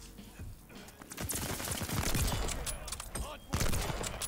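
Sniper rifle shots and scattered gunfire ring out in a Call of Duty match. The bursts are fairly quiet, with sharp transients near the start and close to the end over a busy game background.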